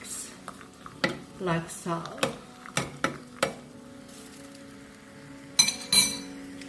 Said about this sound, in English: And then I'm going to give it a good mix